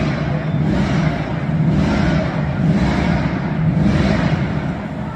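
The Ford Mustang GT500 known from Gone in 60 runs nearby at a motoring festival at Kyalami race track, a loud continuous engine roar that swells and eases in slow waves.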